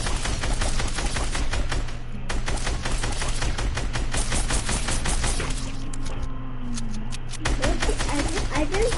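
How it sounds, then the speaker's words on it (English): Rapid, regularly spaced gunshots fired at zombies in a video game, a fast rhythmic volley that keeps going under people talking. "Are you shooting all of them?"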